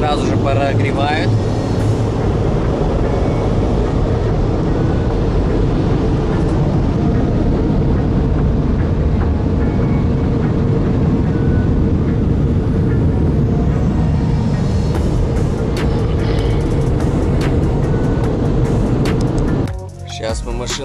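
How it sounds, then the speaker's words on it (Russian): An automatic car wash air blower roars loudly and steadily as it blows over and dries a car, a dense, unbroken rush of air that cuts off near the end, with people talking over it. "обдувает машину, сразу же прогревает."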